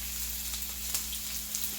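Chopped medium onion sizzles faintly in a hot pan just used for cooking eggs, a soft, even crackle with scattered small pops throughout the short stretch.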